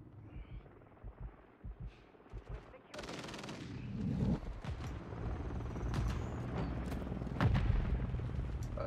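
A support helicopter's gunfire in the video game Modern Warfare 3 breaks into loud, dense, sustained bursts of shots partway through and carries on to the end, with battle noise around it.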